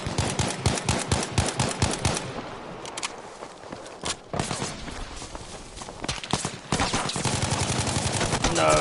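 Battlefield V Firestorm gunfire, with rapid automatic bursts of evenly spaced shots at the start, then scattered single shots and a final run of steady rapid fire, loud and close.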